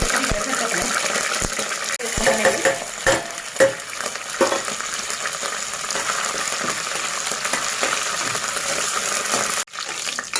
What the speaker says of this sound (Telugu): పోపు అయితే ఎగిరిందండి